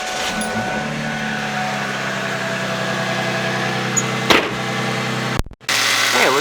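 A Ford Mustang engine idles steadily right after an oil change, a close, continuous low rumble with an even ticking, broken by a brief clunk near the end before the idle carries on.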